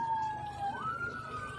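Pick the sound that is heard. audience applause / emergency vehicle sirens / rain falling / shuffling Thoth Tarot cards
emergency vehicle sirens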